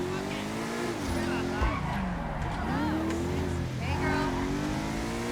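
Übermacht Oracle V12 sports car in GTA 5 being whipped around, its engine revving and falling with shifting pitch, tires briefly squealing, loud and close throughout, with a voice talking over it.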